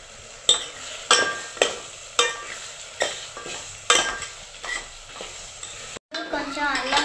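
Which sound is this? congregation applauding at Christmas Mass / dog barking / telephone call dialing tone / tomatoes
tomatoes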